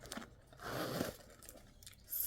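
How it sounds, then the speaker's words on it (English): A zipper slides open on a Coach Swinger 20 crystal jacquard handbag, giving a soft, quiet rasp that swells in the middle amid light handling noise, close by. "Smooth zipper, super smooth."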